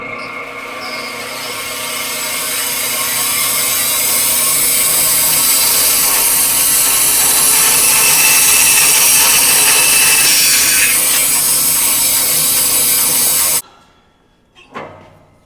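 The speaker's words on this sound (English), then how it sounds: "So the bandsaw has the capability of curved cuts and straight cuts." A bandsaw rips a straight cut through wood along the fence with a push stick, a loud and steady whining hum holding for about thirteen seconds before it stops abruptly, followed by a brief clunk.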